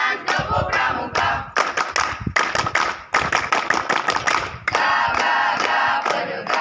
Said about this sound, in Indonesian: Marilah kawan-kawan kita bersama-sama tepuk tangan, tepuk pramuka.